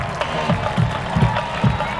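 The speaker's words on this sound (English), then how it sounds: "Listen to this crowd." Spectators in the home stands at a Peabody high school football game keep up a continuous roar of cheering and applause, punctuated by rhythmic surges, close and full with no distinct speech.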